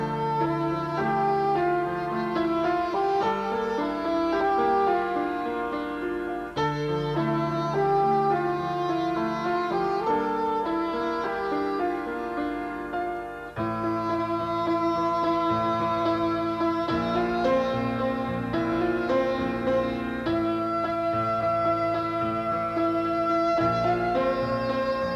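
Music, a layered instrumental passage of sustained melodic tones and chords shifting every few seconds, steady and moderately quiet with no voice over it.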